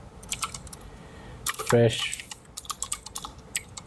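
Keys on a computer keyboard tap in scattered short bursts, fairly close, while someone speaks briefly in Bengali over them.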